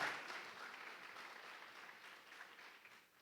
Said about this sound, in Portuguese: Uma salva de palmas ao nosso Senhor, queridos.